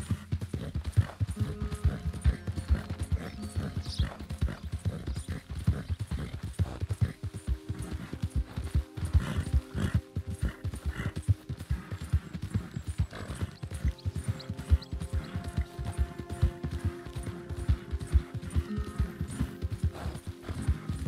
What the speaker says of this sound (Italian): Solo che il nostro cavallo sta qua fuori.